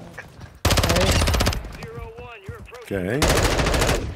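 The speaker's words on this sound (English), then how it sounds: "Somebody's shooting them." Modern Warfare 3 automatic gunfire, two loud rapid-fire bursts close by, one early and one near the end, with someone talking between them.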